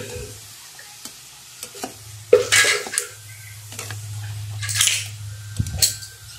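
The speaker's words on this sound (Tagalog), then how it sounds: "haluin lang guys para ma-mix siya" Green beans and pork being stirred in a frying pan, with sporadic scraping clatter of a utensil against the pan over a steady low sizzle, close up and without talk.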